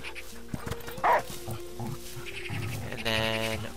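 A dog in the video game Last Day of June gives a sharp bark and then whimpers and yips over background game sounds and music.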